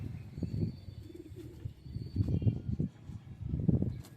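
Pigeons coo in soft, low, repeated bursts from a keeper's flock in Amravati, Maharashtra, several rolling calls overlapping close by against a quiet background.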